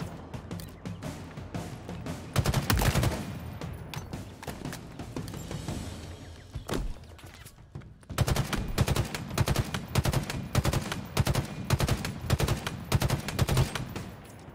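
Weapons fire in Halo Infinite, loud rapid bursts of automatic shots in two long volleys separated by a quieter stretch with scattered single shots.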